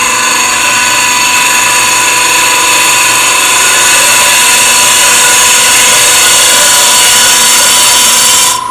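An end grain hollowing tool scrapes a small wood piece spinning on a lathe, a loud, continuous, shrill whine that holds steady throughout.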